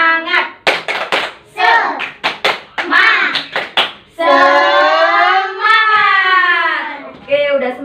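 A class of children claps a quick, rhythmic 'tepuk semangat' routine in an Indonesian classroom lesson, the sharp hand claps landing in bursts before a loud chanted vocal phrase takes over.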